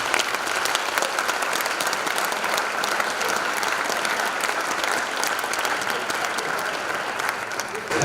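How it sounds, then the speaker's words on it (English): Loud, sustained audience applause at a university athletics gala, a thick unbroken wash of clapping from a large crowd that holds steady from start to finish. "Let's give these individuals a round of applause."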